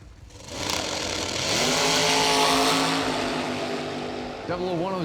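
A dragster at a drag strip race roars loudly down the track in a sustained, rising engine wail, with a second engine note sweeping in near the end; an announcer talks over it.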